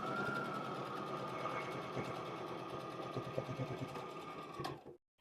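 A sewing machine runs steadily at close range, stitching fabric pieces together in a continuous chain for a handmade Lume wallet, then stops abruptly near the end.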